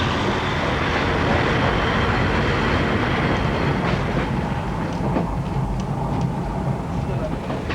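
Train on the Rhodesia Railways line beyond Mafeking, a loud steady rumble of wheels and carriages with faint clicking from the rails, continuous throughout.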